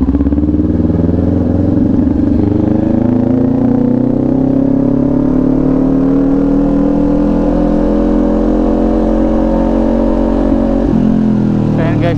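A Kawasaki Ninja 400 motorcycle engine holds a loud, close, continuous drone. The pitch climbs slowly as it revs higher, then drops near the end.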